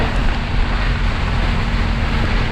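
Strong storm wind over olive groves, a loud, dense, continuous roar buffeting the microphone with heavy low rumble, steady for the whole stretch with no voices.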